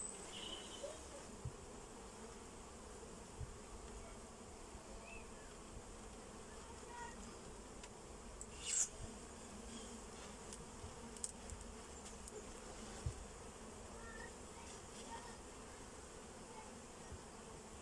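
Honey bees buzz faintly and steadily inside a nuc box after a rescue, a soft continuous drone with a few brief, slightly louder passes of single bees close by.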